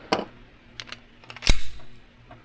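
Daniel Defense H9 pistol rounds fired in a reliability test, one loud sharp report near the middle with a few lighter clicks and knocks before it, close and otherwise quiet.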